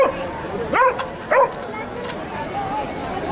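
Dogs barking in a fenced off-leash dog area of a crowded public park at a reopening festival, a couple of short yelping barks close by over a busy crowd murmur.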